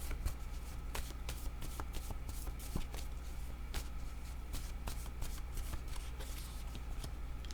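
Tarot cards are shuffled continuously for several seconds, a dense riffling patter of card edges with small taps, close and steady, with no voices.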